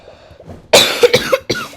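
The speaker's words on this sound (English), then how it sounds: "I've been coughing a lot today." Three or four sharp coughs close by, in two quick bursts separated by a brief pause, against a quiet room.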